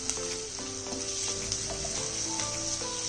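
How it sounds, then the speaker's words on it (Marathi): Vegetables for veg manchurian, including long-grated cabbage, fry in a pan with a steady close sizzle and light clinks of stirring throughout, no voices. "आता भाज्या आपल्या फ्राय होत आल्या आहेत."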